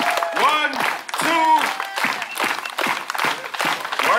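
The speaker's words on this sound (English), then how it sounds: "Everybody, clap your hands. Keep it coming. Keep clapping." An audience keeps clapping hands at a Samoan coconut tree climbing show, steady crowd applause running throughout beneath a loud voice talking and cheering over it.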